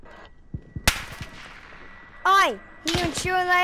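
Gunshots in a Call of Duty roleplay video game, a few sharp isolated cracks early on, followed by shouted voices over the game audio.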